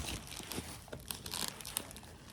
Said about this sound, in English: Okay, so then we'll cut the wrap there.